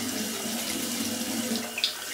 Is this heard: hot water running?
yes